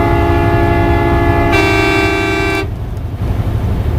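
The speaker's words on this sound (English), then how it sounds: "Train horn and air horn at the same time." A train horn and an air horn blare together at close range in the Nevada high desert, a loud sustained chord with a sharper tone joining partway before both cut off, leaving rumbling road noise.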